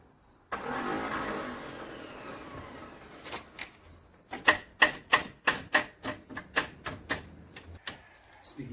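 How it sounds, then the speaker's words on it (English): An abandoned 1969 Jaguar XJ6 Daimler Sovereign Series 1 with SU carbs and a sticky starter whirs briefly, then cranks in a rapid series of rhythmic chugs, loud and close, without firing. "Sticky starter."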